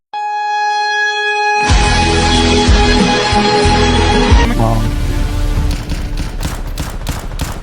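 A Five-seven pistol fires in a video game: after a brief electronic tone, a loud burst of rapid shots rattles for several seconds, then gives way to sparser, separate cracks.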